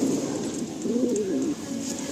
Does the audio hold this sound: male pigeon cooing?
yes